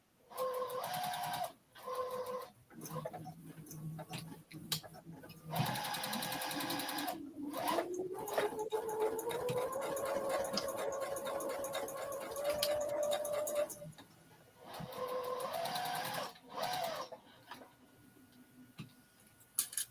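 A sewing machine stitches a quilt in several bursts, its fast, steady mechanical whirr and ticking running close and clear, with short pauses between runs and a longer continuous stretch in the middle.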